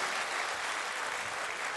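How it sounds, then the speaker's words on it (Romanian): Audience applause for girls performing folk songs at a school folk show, a steady dense wash of clapping from a crowd, loud and continuous with no talking. "vă rog să le aplaudați, că n-au coborât încă de pe scenă"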